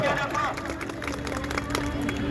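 Crowd applause and cheering greet an honoree at a Republic Day ceremony held at a school in Triveniganj, Supaul, a dense, steady wash of clapping with murmuring voices throughout.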